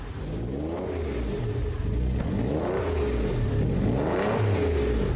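A replica Lamborghini Aventador engine fires up and revs in repeated rising and falling surges, loud and close, with a steady idle between the blips and no talk over it.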